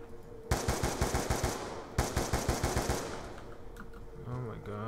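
Automatic gunfire in the Call of Duty: Black Ops 2 zombies map Buried, two loud rapid bursts of evenly spaced shots, followed by quieter game sounds.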